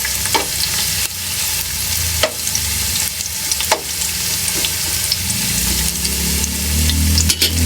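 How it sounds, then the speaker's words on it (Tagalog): Onions fry in hot oil with a loud, constant sizzle, broken now and then by sharp clicks and scrapes of stirring. "Onions in oil. So let it a little bit brown for a while."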